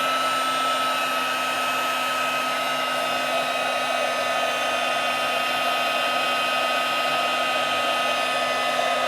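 A heat embossing tool blows hot air onto dry embossing powder, a loud, steady, unbroken whirring drone with a constant tonal whine, running alone throughout.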